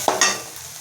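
Bitter gourd stir-fried in oil for a Tamil poriyal, two quick scraping stirs against the pan over a brief bright sizzle, close and fairly loud, no voices.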